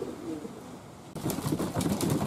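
Pigeons coo softly and close by, then a burst of fluttering and scuffling noise joins in, with rain and wind in the background.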